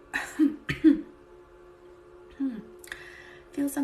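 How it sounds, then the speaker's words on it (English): A few separate coughs and throat-clearing bursts from one nearby person during a quiet relaxation session, spread across a few seconds with soft pauses between them. "making me cough"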